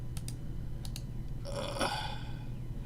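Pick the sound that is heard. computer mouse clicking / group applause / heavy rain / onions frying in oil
computer mouse clicking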